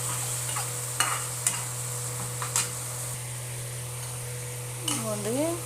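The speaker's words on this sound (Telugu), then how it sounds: "ఇప్పుడు మనం రొయ్యలు కొంచెం వేగిన తర్వాత మసాలా వేసుకుందాం." Boiled prawns fry in a pan, with a steady close sizzle and a low constant hum underneath, a few sharp scrapes or clicks of stirring, and a voice briefly speaking near the end.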